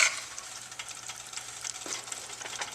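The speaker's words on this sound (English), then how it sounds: "be sure to keep stirring, because you sure don't want it to scorch" Flour roux being stirred in a pot for seafood gumbo, with a steady soft scraping and faint sizzle close by, continuous and fairly quiet with no talking.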